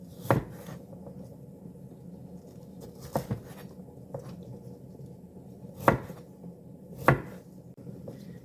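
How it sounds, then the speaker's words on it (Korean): Knife slicing five ginger knobs flat on a cutting board, a few sharp separate chops spaced irregularly over a low background hum, close and fairly quiet. "생강 5톨 납작하게 썰어 줍니다"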